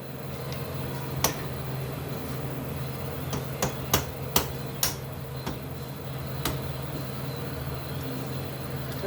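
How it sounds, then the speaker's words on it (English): A hammer strikes a 1925 Chrysler wheel cylinder in a series of sharp, isolated metallic blows with uneven spacing, about eight hits over a faint steady hum. "That's what I need, is a big hammer."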